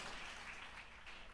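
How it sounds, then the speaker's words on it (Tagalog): A church congregation claps together in a brief burst of applause, a soft distant patter of many hands that fades slightly toward the end. "Malakas na palakpak."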